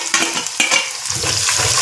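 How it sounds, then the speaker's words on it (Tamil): Tomatoes go into a hot frying pan for a Tamil-style stingray fish curry, giving a steady close sizzle with a few stirring scrapes and no talk. "இப்போ தக்காளி பழத்தை போட்டுருவோம்."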